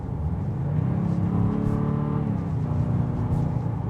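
A 2026 Jeep Grand Cherokee Limited with its new turbocharged engine accelerates at full throttle from low revs, heard from inside the cabin as a steady, rising engine drone with no talking.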